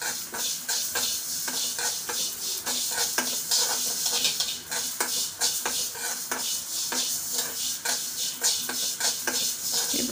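Vermicelli (semiya) frying in a pan while being stirred nonstop, a steady close sizzle broken by rapid scraping clicks of a spoon against the metal, with no talking.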